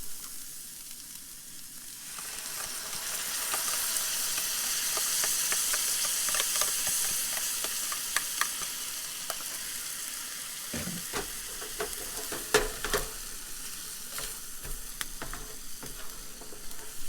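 Shrimp fry in a pan at a truck campsite, a loud, steady hissing sizzle that swells as hoisin sauce goes in, with scraping stirs and clinks of the utensil against the pan.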